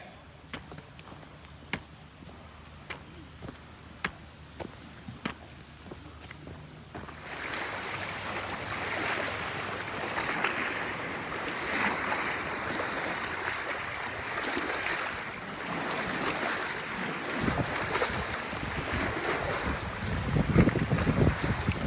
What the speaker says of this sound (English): But it's windy, you probably can hear that